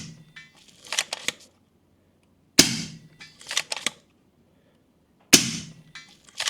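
An FX Leopard air rifle fires three spaced shots outdoors, each a sharp crisp crack followed by brief rustle and faint clicks of handling between, with no talking.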